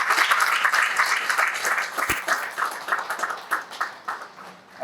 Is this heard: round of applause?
yes